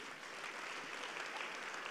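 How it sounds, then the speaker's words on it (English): A church congregation claps their hands during a sermon, a faint, continuous patter of applause with no gaps, heard briefly. "Clap your hands for the Lord."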